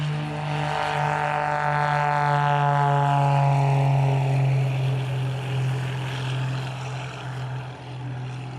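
Small propeller plane taking off for aerobatics, its engine roaring close and loud at first with a falling pitch as it pulls away, then a steady drone that slowly fades with distance.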